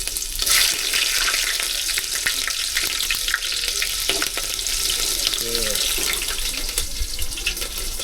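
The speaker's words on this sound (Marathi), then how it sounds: "जिरा मोहरीची फोडणी दिली आहे मस्त पैकी" Mustard seeds, cumin and garlic tempering in hot oil for dal khichadi, with a steady, close, dense sizzle running throughout and brief faint murmurs beneath it.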